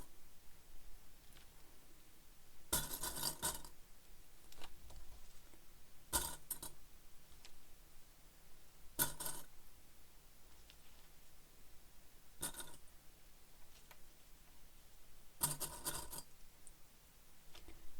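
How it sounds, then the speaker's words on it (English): Plastic sewing clips snap onto fabric along a zipper edge of a handmade handbag, five short crisp clicking bursts spaced a few seconds apart, close and fairly quiet with no talking. "Clip it in place"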